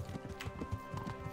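Horse hooves trotting in the medieval video game Kingdom Come: Deliverance, a steady rhythmic clip-clop close by over a dense, continuous ambient background.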